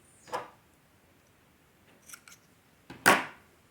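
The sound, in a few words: scissors cutting crochet yarn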